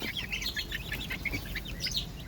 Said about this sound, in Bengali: এই মুরগির বাচ্চাটাকে ওই মুরগিগুলো মানে ঠোকরাইয়া দেখেন কি করছে